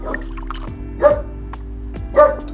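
Cosmos, a pet dog at home, makes two short, close vocal bursts about a second apart over a low, steady background rumble.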